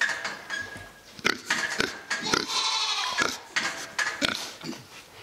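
Pigs grunt and squeal close by in a busy, uneven chorus of short bursts, with goats bleating faintly in the mix.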